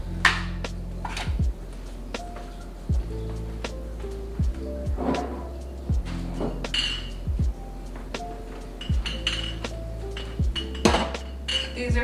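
Breakfast dishes being washed in a home kitchen, with plates and pots clattering and cutlery clinking in repeated sharp knocks throughout, close and fairly loud with no talking.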